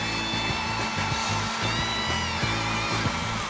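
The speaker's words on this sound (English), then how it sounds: "I understand hairdryers are very loud" A hair dryer blows loudly and continuously up close, a steady roaring whir with a faint high whine and low pulsing motor hum.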